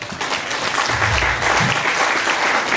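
Sustained, loud audience applause fills the room after a speaker's remark, a dense wash of clapping from a sizable crowd with a faint voice briefly underneath.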